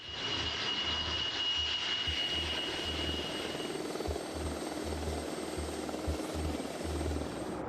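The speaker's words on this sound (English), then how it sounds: "Marine One helicopters undertake the arduous task of whisking the POTUS to an airbase" A Marine One presidential helicopter drones steadily with a rhythmic rotor thump and a whining turbine, moderately distant and continuous throughout.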